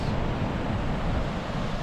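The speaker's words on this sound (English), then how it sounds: "It's a little bit windy, but it's a very nice spot." Wind blows steadily at an outdoor spot, a constant low roar buffeting the microphone for the whole moment, with no other sounds standing out.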